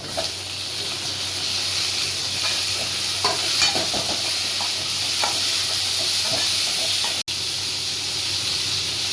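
Shallots, green chili, curry leaves and tomato fry in hot oil with cumin, giving a continuous loud sizzle and hiss broken by occasional stirring scrapes.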